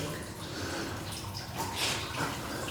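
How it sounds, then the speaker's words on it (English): A small natural stream of water flows steadily outdoors near an old well house, a continuous close rushing trickle with no talk over it. "Looks like a little natural stream."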